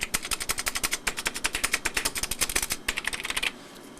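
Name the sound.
typing on 1989 Fora LP-286L laptop keyboard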